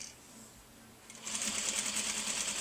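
Sewing machine stitching a quilt seam, starting softly then running at a steady fast whir with rapid needle clatter, close and clear, with no talking.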